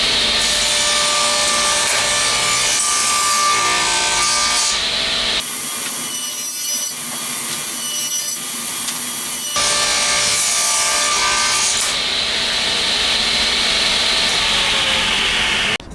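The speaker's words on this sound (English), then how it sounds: "With my blade set at a 45-degree angle, I'm going to chamfer all the edges of the mallet head." A saw blade set at 45 degrees chamfers the edges of a scrap-wood mallet head, making loud, continuous rasping cuts that stop abruptly for a few seconds mid-way, leaving quieter running noise, before cutting resumes to the end.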